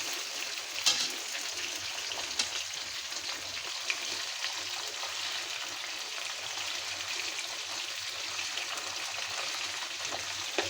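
Boal fish pieces fry lightly in hot oil in a pan, giving a soft, steady crackling sizzle with scattered tiny pops, faint and even throughout with no voices.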